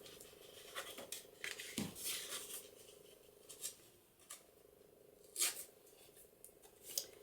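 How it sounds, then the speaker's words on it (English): Scissors trim excess white paper from a layered birthday card in scattered short snips and rustles, quiet and close with pauses between cuts. "I'm just going to trim that off a bit."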